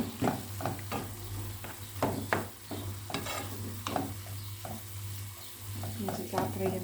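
Onions frying in a pan, with a continuous soft sizzle broken by repeated utensil scrapes and stirring knocks at an irregular pace, close and fairly quiet over a low steady hum.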